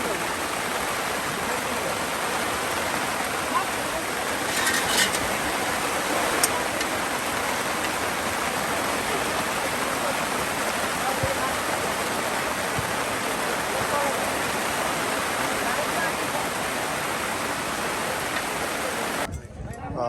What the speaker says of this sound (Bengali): আপনার বৃষ্টির পানি সংগ্রহ করা হচ্ছে, এই পানি দিয়ে কিন্তু রান্না করা হবে।